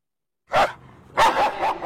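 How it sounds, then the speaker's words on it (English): Security K9 dog of a children's hospital program barking loudly and close: one sharp bark, a short pause, then a burst of two or three more barks, with no talk. "you see one of these dogs looking at you and barking loudly"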